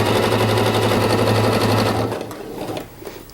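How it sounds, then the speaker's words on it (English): A sewing machine runs a triple stretch stitch along a top's hem at 2.5 length, a steady, loud, continuous whir that stops abruptly after about two seconds, leaving faint handling noise. "I'm gonna go ahead and finish stitching this up"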